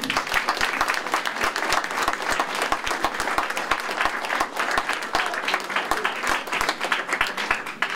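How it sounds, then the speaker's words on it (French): An audience at a book festival in Colmars-les-Alpes applauds, dense steady clapping that fills the room with no break, loud and close. "On vous applaudisse."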